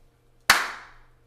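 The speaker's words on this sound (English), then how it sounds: "if I clap my hands, you should be able to hear reverb" A single sharp hand clap rings out close and loud, followed by a roughly half-second reverberant tail decaying through an indoor room.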